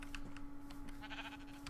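Sheep bleat in the Minecraft SevTech modpack game, with a few short nasal bleats clustered near the end over a steady low hum and faint clicking.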